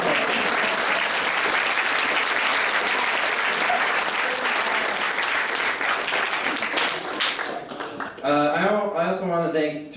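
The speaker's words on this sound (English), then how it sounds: "Round of applause" An audience at a senior speech breaks into loud, sustained applause lasting several seconds, then tapers off as a voice resumes speaking near the end.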